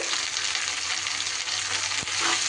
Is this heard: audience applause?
no